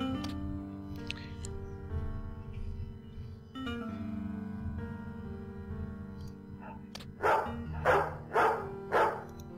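A dog in the survival video game Buried Town barks four times in a steady sequence near the end, clear and fairly loud over a sustained, droning game music background.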